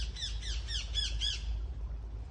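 A bird squawks in a quick run of five sharp, high calls, close and clear over a steady low outdoor rumble, then falls silent.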